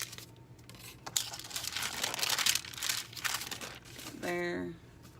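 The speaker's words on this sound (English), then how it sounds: "Rip that." Paper being torn for a handmade journal, a few crinkly ripping bursts at close range, with a brief rattling clatter near the end and voices in the background.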